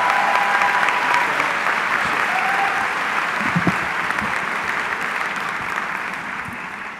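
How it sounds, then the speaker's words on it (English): A high school commencement crowd gives sustained applause welcoming a Board of Education member to the stage. Many hands clap in a thick, even roar that eases off slightly toward the end, with a faint tonal whistle briefly audible early on. "Please join me with a warm round of applause in welcoming one of our Board of Education members"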